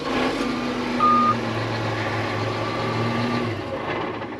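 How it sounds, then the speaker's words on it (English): A faulty tractor engine cranks and runs roughly for a few seconds, then shuts off and winds down to quiet, heard close by and alone. "start this tractor and it would start up, run for a second, shut right off"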